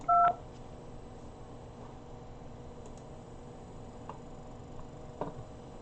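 A single short telephone keypad tone is dialed into an automated call-center phone menu, then a faint, quiet line follows with a few soft ticks.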